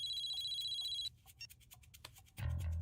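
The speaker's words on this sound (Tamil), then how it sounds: "Godfather phone." A phone ringtone in a Tamil comedy film scene: a steady, high electronic tone rings for about a second, followed by scattered clicks and softer sounds, then a loud low rumble swells at the end.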